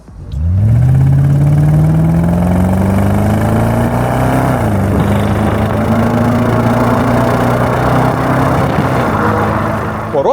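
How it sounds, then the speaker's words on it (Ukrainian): A BMW 650 E64's V8 engine roars loudly up close, climbing in pitch as it accelerates, briefly dropping, then holding a deep steady growl. "звучить цей двигун настільки приємно"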